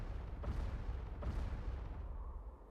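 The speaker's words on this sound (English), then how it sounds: "Wait, I just heard gunshots." Two heavy, muffled gunshots boom in a video game, spaced about a second apart with rumbling tails, fairly faint and distant, followed by a fading low ambience.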